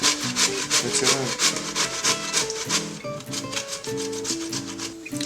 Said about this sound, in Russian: На самой крупной терке натираем.